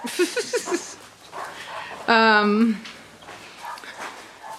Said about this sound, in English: All right, good dogs.